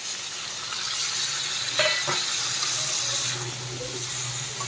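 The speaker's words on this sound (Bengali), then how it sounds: "আর একটুখানি এই সরষার বাটি ধোয়া জলটা আমি এর মধ্যে দেব" Mustard-bowl rinse water poured into a spice mix frying in a pan, giving a steady close sizzle and hiss with faint stirring clinks.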